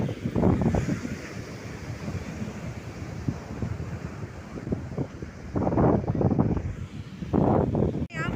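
Sea waves surge and wash in repeated swells, with heavy wind buffeting the microphone throughout.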